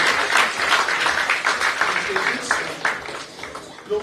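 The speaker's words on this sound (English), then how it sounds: "Give them a good round of applause" Audience applause at a business awards event in Goa: a dense, loud round of clapping from a large crowd that holds steady for several seconds, with a few voices mixed in.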